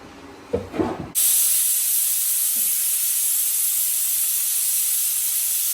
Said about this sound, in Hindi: जब ये कुकर की सीटी आती है ना